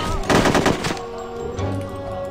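Rapid bursts of SMG fire from the video game No One Lives Forever 2, a loud rattling volley in the first second followed by quieter game ambience and fainter shots.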